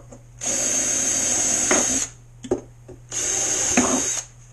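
Power drill boring through an RC gas boat hull to fit strut hardware, two loud whining bursts of about two seconds each separated by brief clicks and handling noise, close by.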